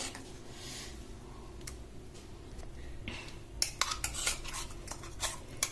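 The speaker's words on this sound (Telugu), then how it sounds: "ఇప్పుడు మనం దీన్ని ఒక బౌల్లోకి తీసుకొని పెట్టుకుందాము." A spoon scoops cucumber chutney into a bowl, giving soft scrapes followed by a run of sharp, close metallic clicks and taps against the dish.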